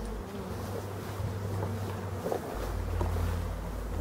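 Black honey bees buzz around honey extraction equipment, a steady close drone that thickens and deepens in the second half, with faint wind or handling noise beneath and no talking.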